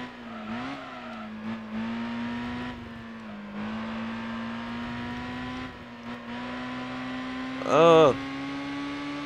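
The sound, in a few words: race car engine revving through gear shift in Gran Turismo 4 Prologue video game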